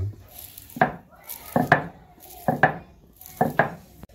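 Coriander leaves ground by hand on a stone slab in a village kitchen, heard as four regular pairs of sharp, close scraping knocks, about one pair per second, with no talk.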